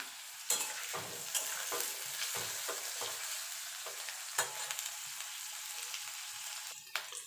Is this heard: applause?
no